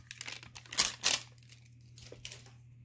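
Foil Pokémon card packs from a Level Ball tin are torn and crinkled open at close range, with a few sharp rips and crackling bursts, then softer rustling and handling.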